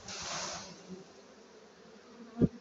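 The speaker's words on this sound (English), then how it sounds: "let me shake the bees off so you can have a look" Honeybees buzz in a brief burst as they are shaken off a hive frame during an autumn hive check, loud at first and then fading to a low hum, with a soft thump near the end.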